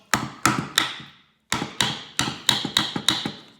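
A hammer drives a metal punch into a metal cap with a rubber gasket on an F23 five-speed transmission, giving sharp, close, ringing blows in two bursts, three strikes then six, with a short pause between.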